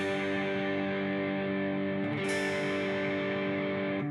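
A distorted electric guitar works slowly through part one of a song intro, one thick chord ringing out continuously with a fresh strike midway, loud and steady, nobody talking.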